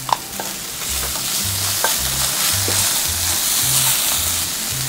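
Dried radish stir-fried with seasonings in a pan for a radish omelette, a steady close sizzle and frying hiss with repeated scraping stir strokes in a regular rhythm, no talk.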